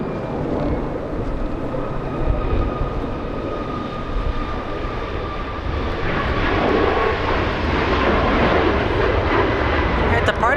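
A jet airliner departs at LAX with a loud, steady engine roar and a whining tone over it, growing a little stronger toward the end, with voices talking underneath.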